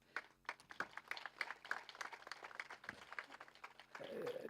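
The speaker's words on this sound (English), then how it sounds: "Can we have a huge round of applause once again" Audience applause at a college alumni meet, a faint scatter of individual hand claps that thickens into steadier clapping over a few seconds.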